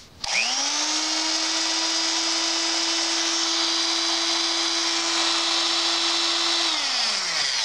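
An old Ram 3/8 inch electric drill made in Chicago spins up quickly to a steady high whine with a brushy electric buzz, runs evenly for several seconds, then starts to wind down.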